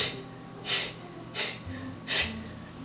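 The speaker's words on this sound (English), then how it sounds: "Number 1, the gasp." Three sharp, high gasping in-breaths demonstrated for vocal technique, evenly spaced about every 0.7 seconds, close and alone with no talk around them.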